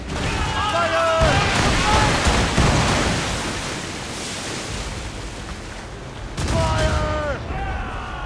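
Ship cannons fire in a naval battle in Assassin's Creed Rogue, loud broadband blasts over wind and surf, with shouted commands from the crew mixed in.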